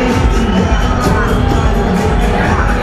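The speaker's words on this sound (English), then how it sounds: "I'll just take you past this flurry of noise in this crowd" Loud, dense crowd noise fills a busy esports event hall, with overlapping chatter, shouts and occasional cheers forming a continuous roar close around.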